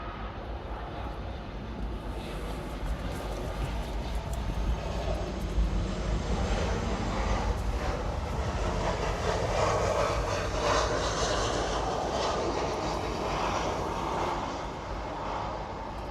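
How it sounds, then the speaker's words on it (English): Southwest Boeing 737-700 jet flying in to LAX after a short flight from San Jose, a broad steady engine roar that swells slightly as it passes and stays moderately distant throughout. "Southwest 2287 flying in from San Jose, California. This is a 737-700."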